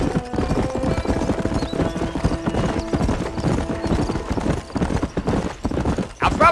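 Horse hooves clip-clopping at a steady galloping rhythm in the Red Dead Redemption video game, loud and close, with a brief whinny near the end and game dialogue underneath.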